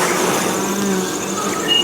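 A honey bee colony hums with a steady, close, even buzz as frames are lifted during a late-summer foulbrood inspection.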